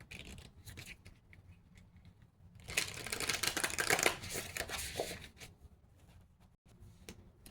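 New, stiff tarot cards are shuffled by hand, a burst of crisp riffling and flicking snaps that swells loud in the middle then trails into lighter card taps, close and with no talk.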